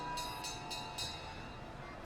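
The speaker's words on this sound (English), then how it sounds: "Train lets out a few whistles, signaling its departure." A departing train gives a few short, bright whistle blasts in quick succession, four clipped toots over a steady low rail rumble, heard from a moderate distance.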